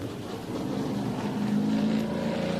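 A 358 cubic inch race car engine roars steadily at speed on a festival track course, a dense, continuous mechanical drone with a low rumbling tone and no voices.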